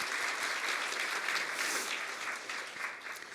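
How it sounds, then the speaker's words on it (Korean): Audience applause for guests at a university student reporters' launch ceremony in Korea, a dense steady wash of many hands clapping throughout, fairly loud and sustained without voices on top. "참석해 주신 네 외빈 여러분께 다시 한번 뜨거운 박수 부탁드리겠습니다"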